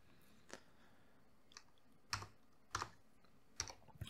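Faint, sparse clicks of keys on a computer keyboard while entering values in AutoCAD 2023. About half a dozen isolated keystrokes in a quiet room, no talking.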